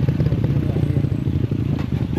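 A motorcycle engine drones steadily and fairly loud along a hiking route toward Lake Holon in South Cotabato, a low rumbling putter with no break.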